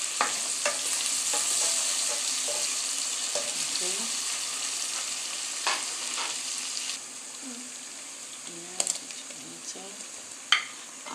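Food frying in a pan on the stove for Jamaican pineapple fish gives a steady, close sizzle and hiss throughout, with occasional light stirring scrapes and clinks.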